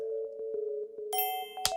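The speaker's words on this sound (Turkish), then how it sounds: "bunu kaçırmamak için telefonuma alarm kurdum" A bright phone alarm chime rings out over a steady electronic tone, with short repeating pulses and a sharp ding near the end.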